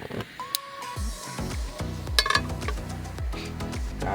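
Popcorn kernels heat in a frying pan, with scattered sharp pops and clicks of metal over a faint sizzle, fairly quiet and close.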